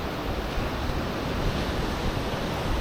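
Ocean waves wash onto a beach as the tide comes in, a steady dense rush of surf close by, mixed with wind.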